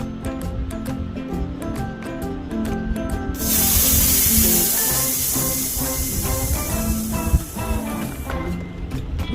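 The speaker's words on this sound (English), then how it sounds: "Else we have to deplete the tire." Air hisses out of a Brompton bicycle tire being deflated, a loud steady rushing spray that starts partway through and holds for several seconds over clicking and handling noises nearby.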